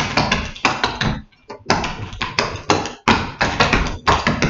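Clog dancing heel taps ring out in sharp, loud rhythmic bursts of quick wooden clacks, with a brief pause near the middle and a short break before a final run of steady taps.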